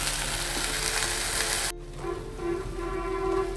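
Ginger-garlic paste sizzles in a frying pan while it is stirred, the start of a fish roe dish. The frying is steady and close, then drops suddenly to a quieter sizzle.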